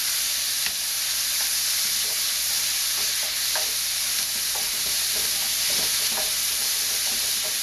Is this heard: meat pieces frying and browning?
yes